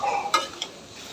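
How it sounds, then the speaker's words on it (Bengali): Onion and chili being sautéed and stirred in a pan, a soft steady sizzle broken by two quick scraping stirs, close and fairly quiet with no talking. "এরকম করে ভালো করে একটু কষিয়ে নেব।"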